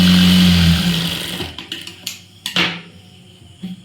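A sewing machine stitching a folded blouse seam hums steadily for about a second and a half, then stops. A few sharp handling clicks and taps follow.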